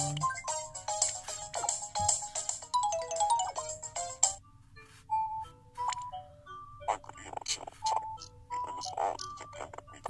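A cell phone in the life-simulation game Tomodachi Life plays a bright, chiming melodic ringtone over a low hum, with tinkly notes continuing throughout amid other game sounds.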